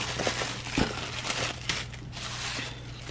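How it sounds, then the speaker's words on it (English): A plastic bag crinkles and rustles close by as it is pulled over food, with scattered crackles and one sharper crunch early on. "cover it up with the plastic bag that it came in"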